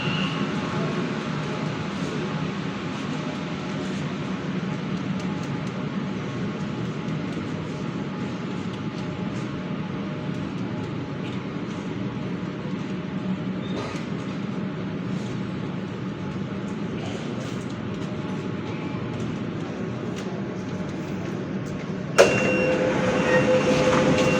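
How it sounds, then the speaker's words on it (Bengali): A Kolkata underwater metro train on the Howrah line runs with a steady low rumble and hum for a long stretch, then a sudden clunk near the end. "ট্রেন ইতিমধ্যে চলে এসছে"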